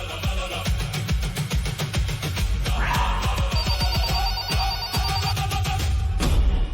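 A telephone rings in repeated electronic bursts, loud and close, with a steady pulsing rhythm and no voices over it.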